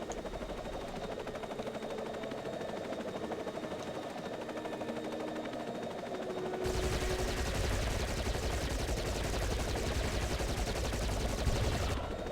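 Machine gun fire in the video game Giants: Citizen Kabuto, a dense rapid rattle that starts abruptly after a quieter stretch of background hum and continues steadily without voices.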